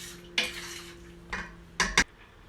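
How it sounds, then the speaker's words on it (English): A spoon stirs a chicken paprikash mixture in a pot, making a few distinct scraping strokes and clinks against the metal over a soft background, with faint sizzling beneath. "Just stir the whole time."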